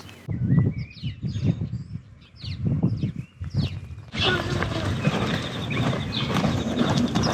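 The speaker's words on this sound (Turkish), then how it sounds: "Köyde daha çok kuş seslerini duyuyorsunuz." Birds chirp and whistle in short calls in a village, over rustling and clopping sounds nearby, then a denser, noisier outdoor ambience takes over.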